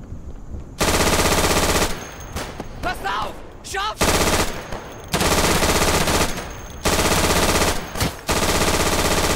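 Sustained machine gun fire in the World War II shooter game Day of Infamy: long loud continuous bursts broken by short pauses, with scattered other gunshots in the gaps.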